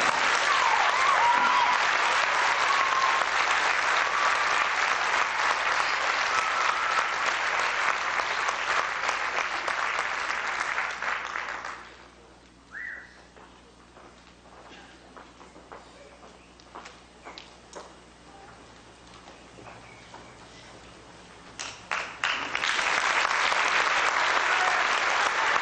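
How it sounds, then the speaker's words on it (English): A large audience at a 1990 high school spring choral concert applauds loudly and steadily for about eleven seconds, fades into a quieter stretch with scattered sounds, then swells into loud clapping again near the end. "Give them a round of applause."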